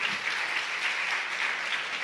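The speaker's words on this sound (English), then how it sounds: "Let's give them a round of applause, and everyone on EWLC." Audience applause at a chamber of commerce awards event, a dense, even wash of many people clapping, steady and moderately loud throughout.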